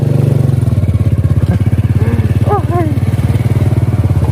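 A motorcycle is ridden at a steady pace, its engine a loud, close, rapidly pulsing drone throughout, with a brief voice rising faintly above it.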